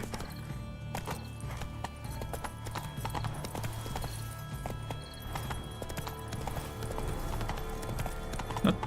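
An untamed horse in The Witcher 3 walking around in circles, its hooves clip-clopping steadily and close, with an occasional soft whinny over low game music.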